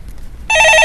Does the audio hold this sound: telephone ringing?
yes